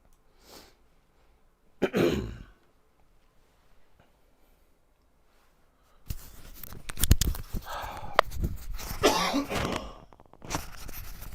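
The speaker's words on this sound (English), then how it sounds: "I'm sure this cough will go away in the summer when this is all over" A single sharp cough stands out early, then a stretch of louder, scratchy rustling and bursts of noise with no clear speech.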